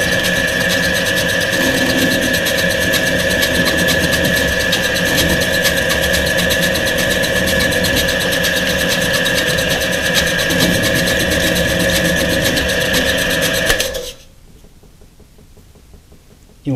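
A milling machine running a conical cutter at about 300 rpm, a loud, steady mechanical hum and whine with rapid knocking that cuts off abruptly near the end, leaving quiet room tone.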